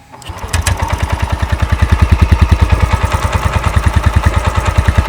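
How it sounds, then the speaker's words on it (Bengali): A Bajaj Pulsar N125 motorcycle engine fires up via silent starter and settles into a steady, throbbing exhaust beat, loud and close, with no talking. "চলো এবারের এক্সস্ট সাউন্ডটা শুনে নেওয়া যাক"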